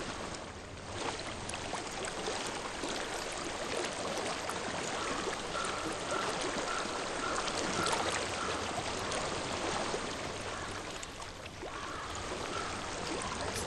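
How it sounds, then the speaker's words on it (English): Steady flowing water in the video game Hellblade: Senua's Sacrifice streams and trickles at a low, even level throughout, with no voices. "I hear water."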